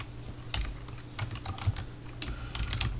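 Keystrokes of someone typing a router configuration command, a quick irregular run of light taps in small bursts, with no talk.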